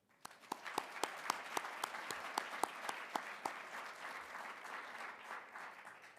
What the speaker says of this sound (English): Please join me in the round of applause for her